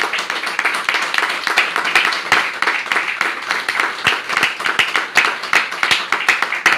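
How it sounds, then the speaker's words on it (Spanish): A church congregation clapping in rapid, steady applause at close range, dense rhythmic claps continuing throughout with no pause. "Denle un aplauso al Señor"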